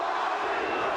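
Boxing crowd at the Paulie Ayala vs Johnny Tapia fight, a steady, dense roar of cheering voices filling the arena without a break for the whole second.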